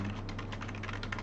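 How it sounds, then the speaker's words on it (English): Quiet, steady clatter of typing on a computer keyboard during a programming session, with rapid irregular keystrokes over a low background hum. "This keyboard, I need to get a better keyboard."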